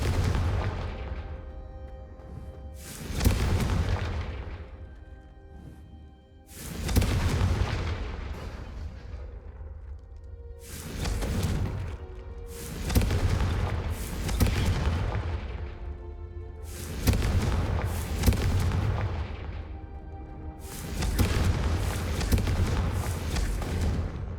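Confringo fire spells in the Hogwarts Legacy video game, a string of about seven loud, booming explosions, each with a long rumbling decay into the next.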